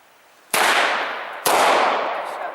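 Two loud, sharp gunshots ring out at an outdoor shooting range about a second apart, each a sudden close crack followed by a long echoing decay, with no talking.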